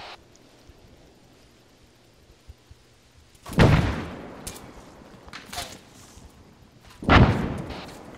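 Two frag grenades explode in an ArmA battle for Agia Marawi, each a loud close booming blast with a rumbling tail, about three and a half seconds apart, with faint crackles and small thuds between them.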